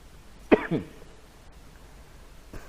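A single short cough close by, a quick harsh burst with a fainter follow-up, then quiet room tone.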